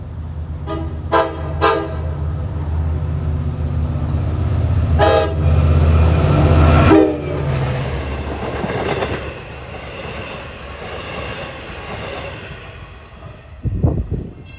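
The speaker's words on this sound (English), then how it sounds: "He has DE30AC 418, which supposedly has a very good K5LA horn." Long Island Rail Road DE30AC locomotive 418 sounds its K5LA horn in several loud, sustained blasts as the train approaches a grade crossing, followed by heavy rumbling of the passing train and wheels, with a brief sharp clank near the end.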